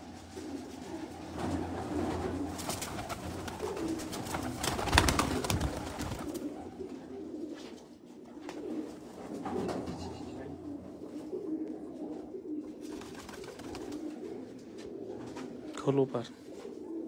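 Pigeons coo in a garden in Islamabad, soft repeated low calls running through the whole stretch, with people talking over them and a brief louder burst of activity midway.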